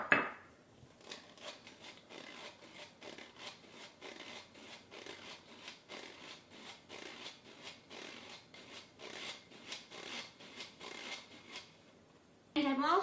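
Baking soda and salt being sifted into pumpkin spice sugar cookie batter give a soft, steady rhythmic rasping and tapping, faint and close, with a voice briefly at the start and end.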